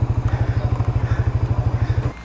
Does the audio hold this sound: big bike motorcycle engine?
yes